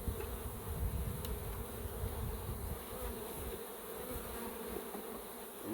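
Bees swarm around a 3D printed hive, filling the scene with a dense, continuous buzzing that stays close and fairly loud throughout, with no voices.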